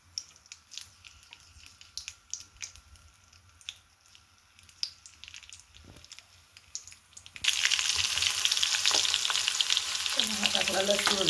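Green chillies hit hot cooking oil: faint clinks and taps at first, then a sudden loud, steady sizzle and crackle that continues to the end.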